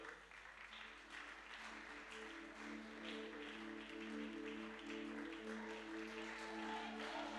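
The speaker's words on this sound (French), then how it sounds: "on peut applaudir pour eux." An audience applauds as young performers walk onto a stage, steady distant clapping over a sustained musical tone, rather faint and building slightly over several seconds.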